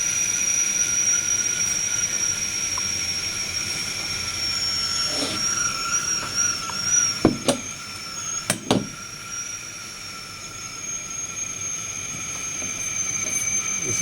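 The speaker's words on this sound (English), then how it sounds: "Whistling kettle without a flame." Liquid nitrogen boiling inside a covered whistling kettle with no flame: a steady, thin high whistle sustained throughout over a low hiss, with a few sharp clicks partway through.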